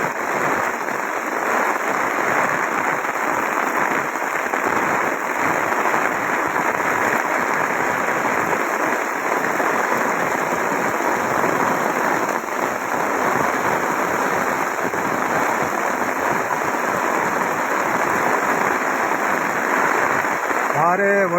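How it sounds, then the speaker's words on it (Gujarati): A heavy downpour with wind lashes Rajula before dawn, a thick, unbroken roar of rain close at hand, with a voice talking over it at times. "ભારે વરસાદની આગાહી વચ્ચે રાજુલાની અંદર જોરદાર વરસાદ."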